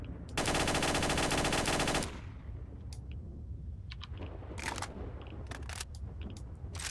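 Automatic gunfire from a weapon in the S.T.A.L.K.E.R. video game rings out in one dense rapid burst, followed by quieter scattered clicks and shots in the background.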